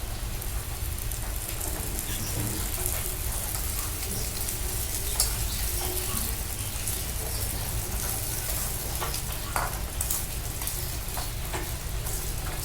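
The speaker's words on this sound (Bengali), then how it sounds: "মাখনা আমি লাল লাল করে তেলের মধ্যে ভেজে নিব" Makhana (fox nuts) frying in oil with salt and turmeric, a steady dense sizzle with scattered crackles and stirring clatter running throughout, close and continuous.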